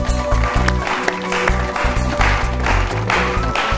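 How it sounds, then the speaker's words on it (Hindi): A studio audience at a quiz show greets a contestant with applause, a dense wash of clapping over a thumping rhythmic music beat that runs underneath the whole time. "गोटे जोरदार करताली से आम स्वागत जनइबा"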